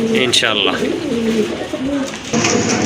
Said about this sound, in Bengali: শাটিন কবুতর ঝর্ণা শাটিন কবুতর খুবই সুন্দর কোয়ালিটি ফুল এক জোড়া কবুতর